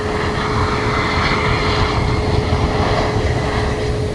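Engines of a Bombardier Global 5000 private jet roar loudly at London Luton Airport, a dense, constant rush of engine noise with no voices.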